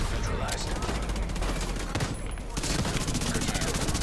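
Gunfire in a shooting video game: dense, rapid bursts of automatic shots rattling almost continuously, with a brief lull midway, fairly close and loud.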